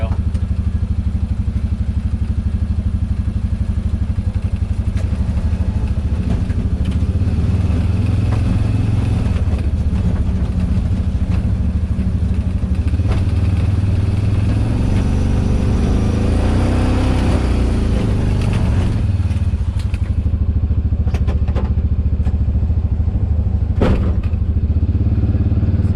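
A Honda Pioneer 700 side-by-side pushes a Denali 72-inch hydro-turn plow along a snowy driveway, its engine droning steadily near the microphone with occasional clunks and thuds, a faint voice now and then.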